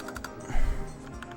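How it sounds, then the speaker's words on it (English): Rapid clicking of a computer keyboard during a Mario Kart 64 tournament broadcast, a quick burst of close keystrokes over a low background rumble, with little talk. "This keyboard is so satisfying. This is like just an amazing keyboard."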